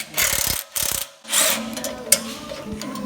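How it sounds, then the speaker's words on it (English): A ratchet wrench tightens bolts on an OEM Honda Civic exhaust, giving several bursts of quick, close mechanical clicking separated by short pauses, loud and alone. "It is officially connected and time to tighten up the bolts."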